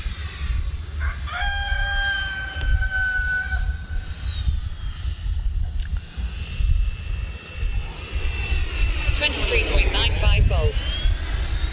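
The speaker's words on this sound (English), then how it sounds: "Still using the default 1900 kV Freewing motor in this bird." Freewing F-15 twin 90mm electric ducted-fan RC jet with a 1900 kV motor, flying overhead as a sustained whine that shifts in pitch during passes, with a rooster crowing in the background and wind noise throughout.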